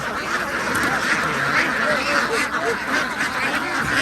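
Many farm ducks quack together nearby, a busy overlapping chorus of calls that continues without pause.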